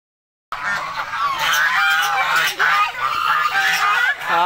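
Several geese honk repeatedly in a loud, overlapping chorus of nasal calls, close by and continuous, with faint human voices mixed in underneath.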